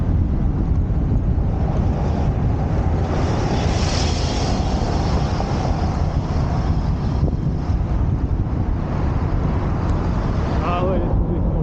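Strong wind outdoors in Japan buffets the microphone in a loud, continuous rushing roar that lasts the whole stretch. Faint voices are barely audible underneath.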